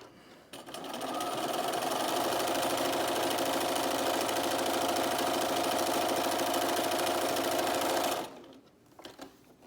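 Sewing machine stitching a reusable washable fabric medical mask, a steady loud mechanical whirring run of about seven seconds that starts abruptly and stops, followed by a few faint handling sounds.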